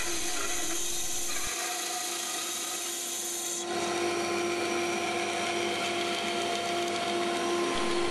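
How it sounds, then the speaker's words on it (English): A bandsaw cuts a circle from scrap wood, producing a steady, loud, close whine with a strong hum under it; the tone brightens slightly partway through and carries on without pause, with no voices. "I cut the circle out on the bandsaw."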